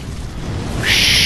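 A boss going supernova in Dark Souls 3 erupts into a loud, sustained hissing roar that swells in partway through over a rumbling game background.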